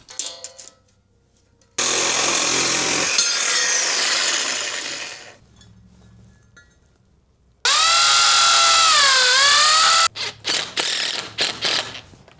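Metal unistrut channel for gas pipe clamps is cut with a power tool in two long, loud, harsh grinding passes, the second with a rising and falling whine, followed by short bursts.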